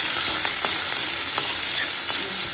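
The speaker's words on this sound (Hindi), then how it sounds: "अच्छा फोड़नी दो, कड़ी पत्ता डालो," Garlic, green chili and curry leaves sizzle and crackle loudly in hot oil with a pinch of asafoetida, a dense continuous frying hiss with occasional sharper pops, heard close with no talking.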